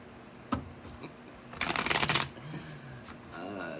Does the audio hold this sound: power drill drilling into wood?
no